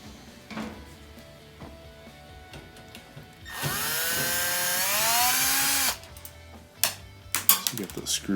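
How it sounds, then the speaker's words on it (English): A power driver backs out the screws holding the fill valve on a washing machine: a rising motor whine of a couple of seconds, then scattered clunks and handling knocks nearby. "to remove just two screws here that hold on the fill valve"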